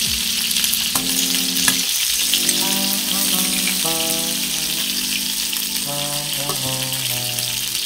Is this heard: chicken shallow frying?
yes